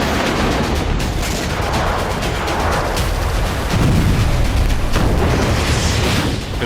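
Heavy booms and rumbling blasts from missile strikes in Crimea roll on continuously, loud and dense, with rattling bursts layered through a wash of noise.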